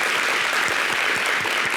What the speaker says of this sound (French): sous les applaudissements de ce chaleureux public